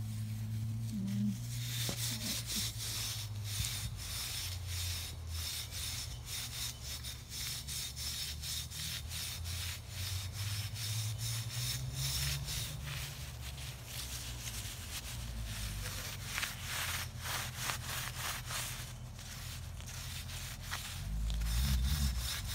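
Steady scrubbing of rust off a chrome metal storage rack, a continuous close rasping rub with rapid back-and-forth strokes that carries on for over twenty seconds under a low background hum.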